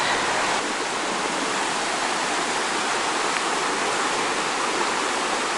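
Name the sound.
fast-running water at the Lake Tahoma dam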